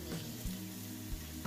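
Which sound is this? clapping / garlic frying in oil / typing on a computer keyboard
garlic frying in oil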